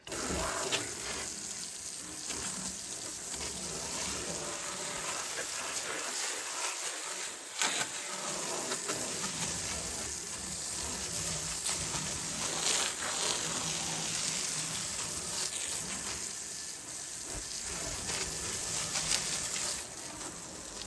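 Water runs steadily from a tap for a long stretch, a continuous splashing hiss with slight changes as something is rinsed under it.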